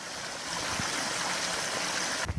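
Steady outdoor stream flowing over gravel with brownish-red streambed, a continuous close rushing and trickling wash with no talk.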